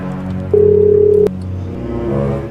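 A phone dialing out to call a spouse: one loud, steady electronic tone lasting under a second, then a faint hum afterward, with no talking.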